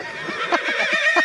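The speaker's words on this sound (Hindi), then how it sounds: "घोटक का मतलब होता है घोड़ा" A horse whinnies loudly and close, a rising and falling neigh with several pulsing bursts and no voices.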